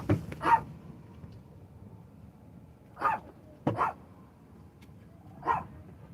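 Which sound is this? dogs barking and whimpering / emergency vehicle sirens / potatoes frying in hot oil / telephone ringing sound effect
dogs barking and whimpering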